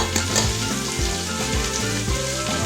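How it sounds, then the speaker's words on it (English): Eggs added to vegetables frying in a pan, a loud close sizzle with rhythmic thumps and scrapes of stirring running throughout, no voices. "now I'm going to put some eggs in there"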